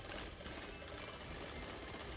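Drill boring downward through rock in the video game Drill Core, a steady dense mechanical grinding and rattling that runs continuously and evenly throughout at moderate level, with no talking.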